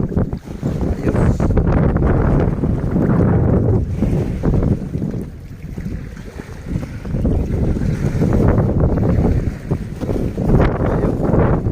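Strong wind buffets the microphone on a fishing boat in loud, gusting rushes that rise and fall over several seconds, mixed with splashing water from the boat.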